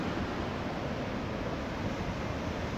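Sea surf at Klothok beach in Wonogiri, heard from a high viewpoint above the shore, a steady broad wash of waves blended with wind noise, continuous and fairly faint.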